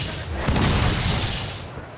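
A single heavy boom of ship cannon fire from the video game Assassin's Creed Black Flag, loud and close, followed by a broad rumbling decay.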